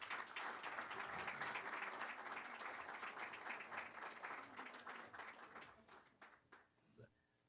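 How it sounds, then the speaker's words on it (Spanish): An audience applauds a lecturer at a water-law conference in the Dominican Republic with a dense burst of clapping that fades into scattered individual claps near the end. Faint voices sound beneath it. "Un aplauso para él."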